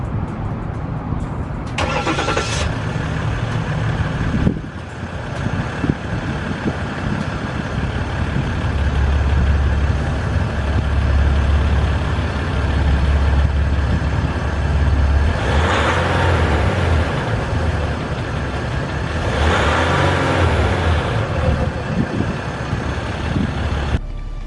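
A 2018 Ram EcoDiesel truck cranks over and fires up, then settles into a loud, steady diesel idle with low rumbling that swells and eases a few times over the following twenty seconds.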